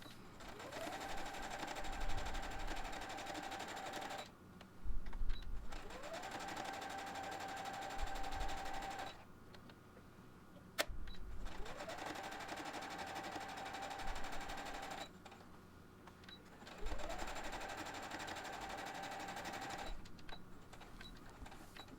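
A sewing machine stitches fabric album pages with felt, running in steady bursts of rapid mechanical whirring separated by short pauses, close and fairly loud with no talk.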